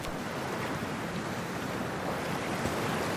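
Ocean waves and surf from the video game Cyberpunk 2077 make a steady, dense wash of water noise mixed with wind, loud and continuous with no talk.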